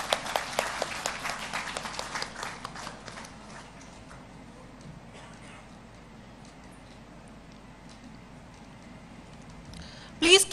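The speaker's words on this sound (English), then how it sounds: "Please give a huge round of applause to her." Audience applause at an international conference on holistic health, a burst of many hands clapping loudly at first, then thinning and fading into a quiet room before a short loud thump at the end.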